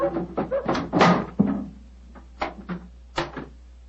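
A door opening in an old radio drama: a few wooden thuds and creaks land close by, then brief knocks and clicks follow over a quiet steady hum, with no talking.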